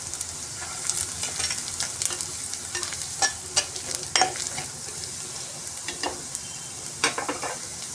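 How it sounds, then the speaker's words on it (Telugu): Onions fry in a pan for chicken biryani, a constant close sizzle broken by scraping stirs of a spatula, with no talking. "చూసారా, బాగా వేగుతుంది."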